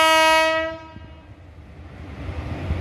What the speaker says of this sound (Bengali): দুন এক্সপ্রেস আমাদের ঢুকছে ধানবাদের 1 নম্বর প্ল্যাটফর্মে ওয়াফ 5 লোকোমোটিভের সাথে